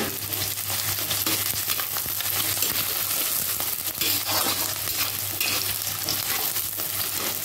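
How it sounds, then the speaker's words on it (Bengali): Onions frying in hot oil with garam masala and green chillies, for a mutton and ash gourd lunch, give a loud, dense, steady sizzle and crackle up close, with occasional stirring clinks throughout. "পেঁয়াজটা এখানে ভাজা হোক"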